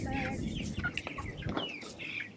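Chickens on a chicken farm cluck and squawk in overlapping calls, a busy chorus of fowl close by with a low hum of the barn underneath.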